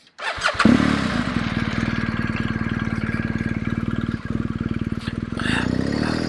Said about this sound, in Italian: Quindi accendiamo la moto.